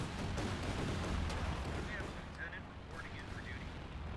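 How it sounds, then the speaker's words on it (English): Dense battle din from a Company of Heroes 2 match, with continuous gunfire and artillery rumble blending into a loud, steady wall of noise, and machine gun fire buried within it. "Another machine gun there for Tume."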